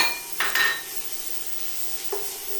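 Garlic hits a hot pan for short rib ragu, a brief bright sizzle flaring twice with a light stirring clatter, then settling into a faint steady hiss.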